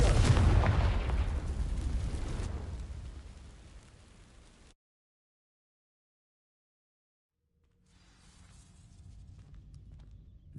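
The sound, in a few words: Confringo fire spell burning dry vines, Hogwarts Legacy video game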